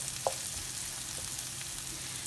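Onions cook gently in a pan on low heat with a soft, quiet sizzle, and a single light clink of a utensil comes near the start. No one speaks.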